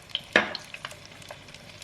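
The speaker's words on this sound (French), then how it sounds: "elle va mettre le poulet côté peau dans l'huile d'olive" Chicken pieces laid skin-side down in hot olive oil give a crisp sizzle with a sharp crackle and a few scattered spits, all fairly close and without voices.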